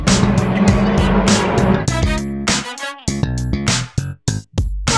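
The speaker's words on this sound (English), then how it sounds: "Those are the cars that are racing now." Race cars speed around a circuit in a series of loud, close passes with sharp bursts and tire squeal, one after another with short gaps. No one talks.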